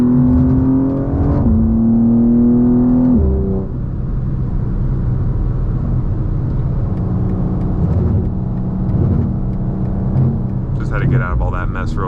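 A BMW M2 G87 pulls hard on an open Las Vegas road, its loud exhaust droning and rising in pitch through gear changes, heard from inside the cabin with a voice talking over it.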